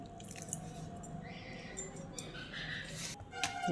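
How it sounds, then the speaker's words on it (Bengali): Water is added a little at a time to momo dough while it is kneaded by hand, giving soft drips and wet squishing sounds that continue steadily at close range. "এবার জল দেওয়া হচ্ছে, অল্প করে জল দিয়ে প্রথমে মেখে নিতে হবে।"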